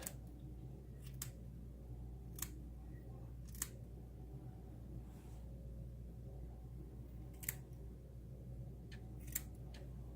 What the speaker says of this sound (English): what I like to do is trim around the ears